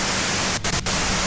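Radio white noise static from the video game Disco Elysium, a dense steady hiss broken by two brief dropouts in the middle, heard alone.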